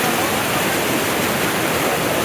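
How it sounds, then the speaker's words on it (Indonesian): Flash flood water surging down from the slopes of Mount Argopuro after heavy rain, carrying mud and wood through the Peh river area of Gunung Sari village; a loud, dense, unbroken roar of rushing water with no voices. "tiba-tiba terjadi banjir bandang yang membawa lumpur dan kayu"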